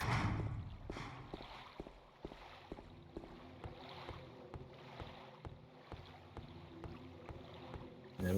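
Rowing a boat across a lake in the PlayStation 2 game Silent Hill 2 produces a steady stream of soft, regular oar strokes and splashes over a constant watery, windy wash.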